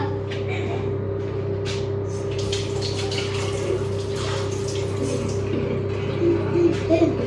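Water runs steadily from a tap in a continuous rushing stream, with a low hum underneath and a few faint splashes toward the end.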